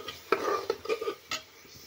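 Mutton with lentils stirred in a pan, giving a few close scraping and clinking strokes of a spoon against metal, with faint sizzling between them.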